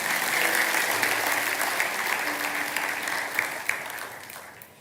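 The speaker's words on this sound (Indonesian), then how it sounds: "Kasih tepuk tangan untuk Tuhan Yesus" A church congregation applauds for Jesus, a full round of clapping that swells early and then slowly fades out, a few louder individual claps near the end.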